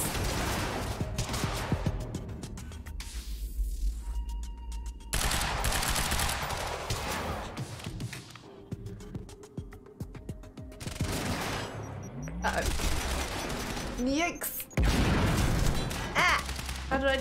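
Shotgun and other gunfire in the video game Quantum Break, repeated loud blasts and bursts of rapid firing across a busy action sequence, with game effects and music beneath, no talking.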